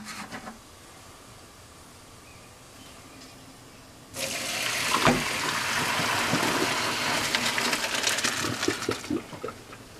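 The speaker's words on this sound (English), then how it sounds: "I'm going to drain the noodles now so they don't get overdone." Cooked noodles for a tuna casserole are drained into a colander: after a quiet stretch, a loud, steady rush of water pours into the sink and continues for several seconds, close by.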